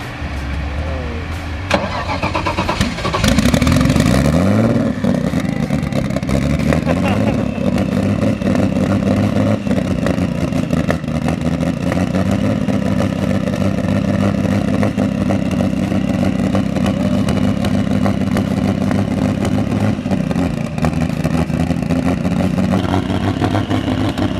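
Turbocharged BMW E46 M3 drift car engine cranking and firing up, then settling into a loud, rough, steady idle with occasional blips of revving; close, powerful and continuous.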